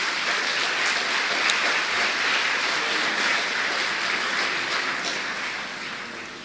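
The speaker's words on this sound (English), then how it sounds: "Ladies and gentlemen, a round of applause again for all our honors students." Sustained applause from a large graduation ceremony audience in St. Lucia, dense steady clapping that fills the hall and tapers slightly at the end, with no talking over it.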